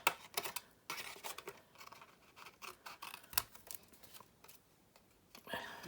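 Paper being cut on an angle with scissors for a Stampin' Up gift bag decoration, giving a string of crisp, close snips and rustles in uneven bursts.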